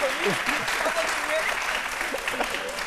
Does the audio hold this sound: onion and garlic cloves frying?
no